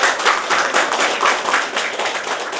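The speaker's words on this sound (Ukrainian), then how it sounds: "Тому запрошую до слова Любу Степанівну, плескаємо, підтримуємо" An audience claps steadily throughout at a charity exhibition and fashion show of art school students' work, a dense, even wash of applause with no voices over it.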